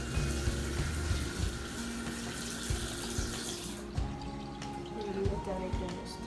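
Tap water runs into a sink as a peeled vegetable is washed beneath the stream, a steady close splashing with faint clatter, while someone talks over it in French.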